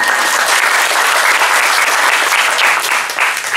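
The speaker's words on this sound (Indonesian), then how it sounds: "Tepuk tangan." Loud, dense applause from the audience at a political consolidation meeting in West Jakarta, a continuous sustained clapping that tapers slightly at the very end.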